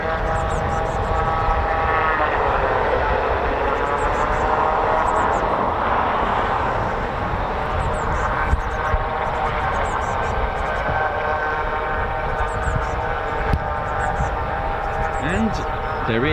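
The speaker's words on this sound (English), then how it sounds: "And there is another aircraft taxiing out as well for departure." An aircraft taxis out for departure at a busy RAF training station, its engine a steady, fairly loud droning hum that holds evenly throughout with no break.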